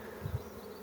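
A low, steady buzzing of bees fills the short moment, a close hum with a brief swell near the start.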